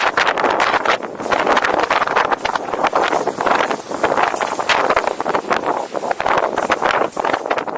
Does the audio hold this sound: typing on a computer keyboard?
no